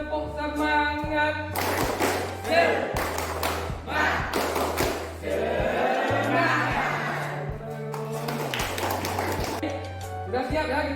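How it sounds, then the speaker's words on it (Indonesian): A school group does a rhythmic spirit clap, sharp unison claps in a patterned beat with thumps, under a voice and chanted group speech, in a lively classroom setting. "3, 2, 1, tepuk semangat."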